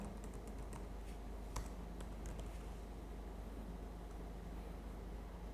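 Keys clatter on a computer keyboard as an IP address is typed into a server security setup, a steady close run of light clicks with a few sharper taps over a low background hum.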